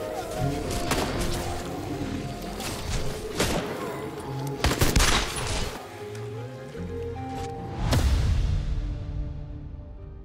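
Gunshots ring out in a zombie shooter game, scattered loud bangs and thumps over busy game sounds and a rumbling background, with a few heavier booms near the end.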